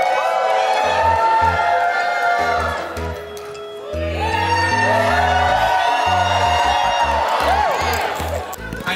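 A crowd at a Megaplex event cheers, whoops and shouts loudly, with one sustained burst, a brief dip, then a second swell, while music with a thumping beat plays underneath.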